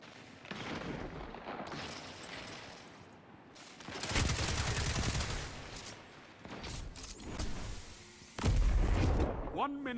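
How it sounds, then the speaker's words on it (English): Rifle fire in a Destiny 2 Crucible match, with loud bursts of rapid shots around the 4-second and 8.5-second marks. Between the bursts come quieter game noise and voices talking. "This rifle feels really good."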